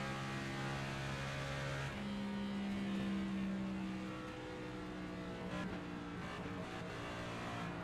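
Race car engine from the NASCAR 25 video game at the Coke 600, a steady loud droning roar whose pitch shifts up and down as the throttle is lifted and fed through the turns, with no pauses.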